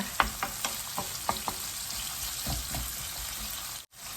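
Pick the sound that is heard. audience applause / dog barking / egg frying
egg frying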